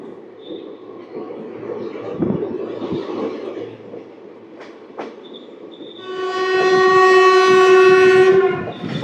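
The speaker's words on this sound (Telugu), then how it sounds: "5 నిమిషాలు స్టాప్ తర్వాత కృష్ణ కెనాల్ జంక్షన్ నుంచి అయితే మన ట్రైన్ అయితే స్టార్ట్ అయ్యింది." The Tirupati–Kakinada Town Express pulls out of Krishna Canal Junction with rumbling wheels and scattered clanks, then sounds a loud, sustained horn blast for about two seconds before it cuts off.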